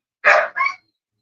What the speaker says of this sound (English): Oh, I got some loud ass dogs barking